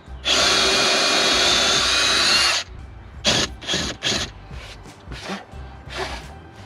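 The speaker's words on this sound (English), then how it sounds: "Make sure I don't drill into my car," A power drill bores into the body of a Subaru Outback during a camper conversion, whining loudly and steadily for about two seconds. Several short, sharp bursts of trigger pulses follow, close and distinct.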